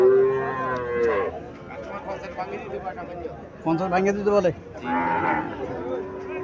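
A Sahiwal calf at a cattle market lets out several drawn-out moos, one at the start and two close together later, while someone talks nearby.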